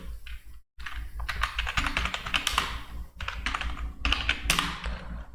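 Fingers type on a computer keyboard in quick irregular bursts of close clicking keystrokes, separated by a couple of short pauses, with no one talking.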